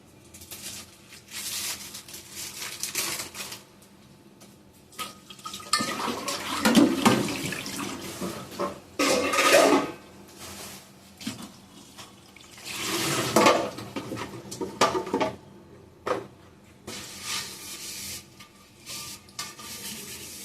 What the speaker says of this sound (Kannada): ಪಾತ್ರೆಯನ್ನು ತೊಳೆಯುವ